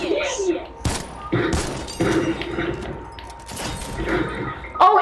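Gunfire erupts during a Fortnite duos match, a few sharp bursts and impacts scattered through excited talk from players.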